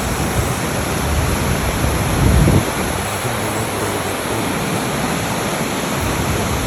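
Steady roar of the Lower Falls waterfall, broad rushing water noise filling the clip without pause, with a brief low-pitched surge in the middle and no voices.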